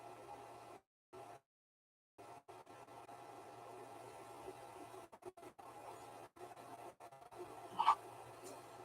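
A 3D printer running a print-in-place bearing job, a faint steady whir of stepper motors with brief dropouts and a small tonal chirp near the end, no voices.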